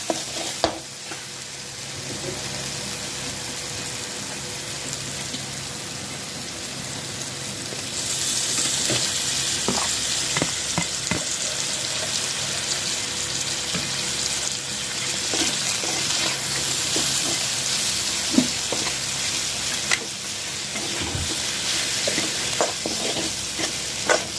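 Pasta is stirred into sizzling masala in an oily pan, with scraping spoon strokes and clatters over a continuous frying hiss that grows louder partway through.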